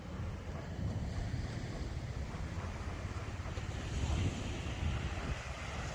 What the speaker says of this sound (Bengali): এই দীঘার সমুদ্র